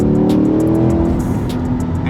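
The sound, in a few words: mid-engine sports car accelerating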